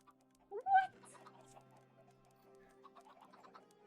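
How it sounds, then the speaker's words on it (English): Chickens cluck in the Minecraft video game at a chicken cooker farm. One louder squawking cluck comes early, followed by fainter scattered clucks and small game sounds. "that'll set off the whole hatching of the chickens for the chicken cooker"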